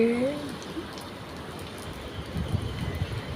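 Rain falls in a steady wash of soft patter, with a faint voice-like tone at the start and a few louder drops later.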